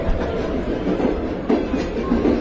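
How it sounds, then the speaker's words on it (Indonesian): A train carrying weapons rolls past, a steady loud rumble of rail cars with rhythmic clickety-clack from the wheels throughout, no voices. "kereta Londo yang membawa persenjataan dari Solo hampir melewati Madiun"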